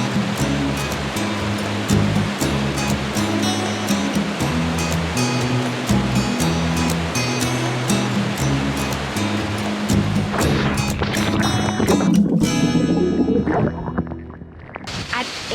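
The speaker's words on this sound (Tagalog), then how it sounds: "Makikita mo na ang Malatanog Falls." Malatanog Falls in Negros rushes with a steady, loud roar of falling and churning water throughout, mixed with background music and fading slightly near the end.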